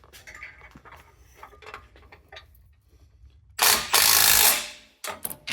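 A ratchet tightens a bolt on an aluminum front bumper for a Jeep JL/JT, with close mechanical clicking and rattling during a loud burst midway, then a few short clicks at the end.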